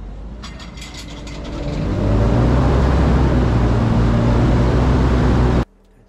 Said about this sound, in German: Durch Drücken der Taste 6 wird der Maschinenantrieb eingeschaltet.